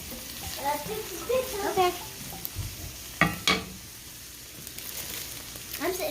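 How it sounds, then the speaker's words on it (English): Minced garlic sizzling in a hot frying pan, a soft steady crackle with stirring clatter and a sharp utensil knock midway, while a voice speaks briefly over it. "Next, I'm throwing in a heaping tablespoon of minced garlic"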